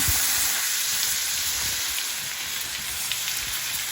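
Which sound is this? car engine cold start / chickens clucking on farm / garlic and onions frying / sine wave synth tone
garlic and onions frying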